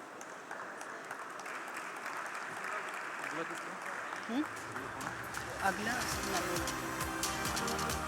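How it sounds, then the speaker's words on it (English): Applause rises from the audience at a sugar industry annual convention and expo, a diffuse, moderate clapping that builds over several seconds, with voices audible in the hall. "Ladies and gentlemen, round of applause for Mr."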